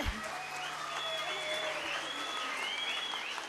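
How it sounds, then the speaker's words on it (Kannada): A crowd claps steadily at a school annual day celebration, with a bird's high whistled calls and faint voices above the applause. "ಜೋರಾದ ಚಪ್ಪಾಳೆ."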